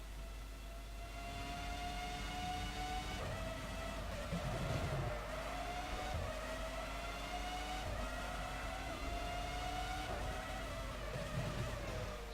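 A Formula One race car in the game Formula One 05 at a Spanish circuit, its high-revving engine whining steadily and shifting pitch through gears, loud and continuous with no talking.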